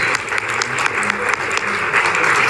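Loud, dense applause from an audience greets a host stepping onto the stage at a live-broadcast event, a steady close clatter of many hands with no break.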